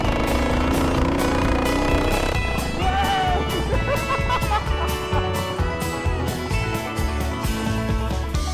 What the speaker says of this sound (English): lawnmower racing